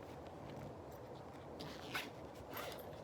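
A single brief zip on a backpack sling bag, faint and close over a low background hiss, lasting about a second.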